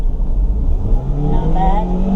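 A 2002 Toyota Celica GTS automatic engine pulls steadily while driving, a low droning hum that climbs in pitch as it accelerates, loud and close throughout.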